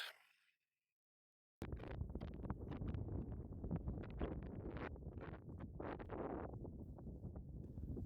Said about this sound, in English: it's quite blowy up here today